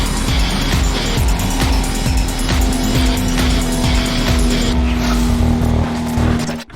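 Toyota Supra race car in the racing game NFS ProStreet, loud continuous engine drone with rapid rhythmic revving pulses and a steady tone, mixed with tire squeal, cutting off abruptly at the end.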